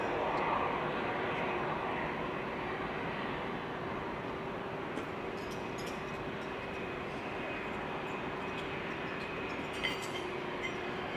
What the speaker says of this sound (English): Oh, that's a noisy little airplane coming this way.